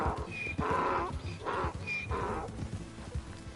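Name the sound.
zebra call sounding like a donkey, video game Red Dead Redemption II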